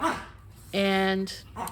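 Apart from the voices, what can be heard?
dog barking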